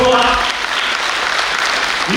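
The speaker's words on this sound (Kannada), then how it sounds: "ನಮ್ಮ ಜೋರಾಗಿ ಒಂದು ಚಪ್ಪಾಳೆ" Loud, dense applause from an audience at a Karnataka media gathering, strong and sustained across the whole moment, with a voice coming through at the start.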